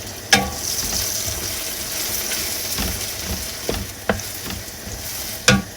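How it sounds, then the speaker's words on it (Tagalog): Pansit noodles being stirred with yakitori sauce in a pan, a soft steady sizzle broken by several sharp scraping knocks of the utensil against the pan, with no talking. "Okay, halu-haluin lang natin."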